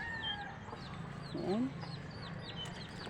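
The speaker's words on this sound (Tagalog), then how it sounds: "Yan ang manok na kabes." Pet chickens in a yard give a few soft clucks and short calls, one louder cluck in the middle, while a person speaks a single word nearby.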